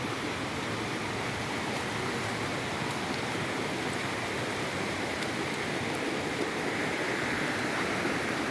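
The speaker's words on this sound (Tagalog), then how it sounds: "Malakas kasi ang agos mga kawaray." A strong river current rushes steadily in a rural province setting, a loud, even broadband roar of flowing water with no talking.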